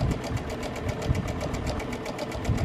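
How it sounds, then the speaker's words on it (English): A sewing machine stitching small quilt blocks for a mock cathedral windows table topper, running in a fast, even stream of needle strokes at close range with no talk. "I'm just going to stitch all 24 little blocks here individually"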